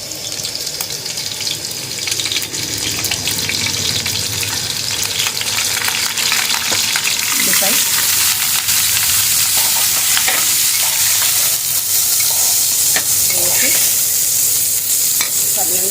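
Green chillies fry and sizzle in two tablespoons of hot oil for a Telugu gongura botti curry, a steady close crackle with stirring scrapes that grows louder and brighter midway, no talking.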